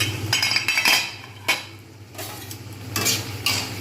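Capsicum and green chillies cook in a pan with the lid on, giving a soft sizzle under close metallic clinks and scrapes of a utensil against the pan, in irregular bursts with no talking.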